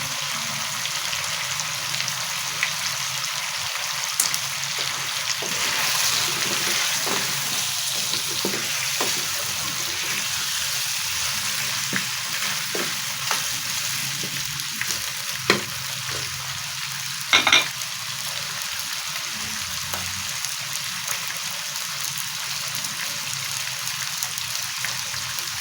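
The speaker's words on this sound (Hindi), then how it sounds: "5 मिनट के लिए फ्राई करना है," Onions fry in a pan for fish head curry, a steady close sizzle with faint crackles and pops running throughout at an even level.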